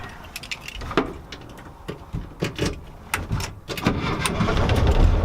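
A 1964 VW Beetle engine cranks over with a scatter of clicks and bursts, then settles into a steady, rising running drone that fills the end of the clip, close by with no talk.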